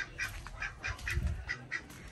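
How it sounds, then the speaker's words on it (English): Ducks kept alongside chickens in a rural backyard quack in a steady series of short, nasal calls, several birds overlapping at moderate distance with no one speaking. "So these are some chickens and some ducks there"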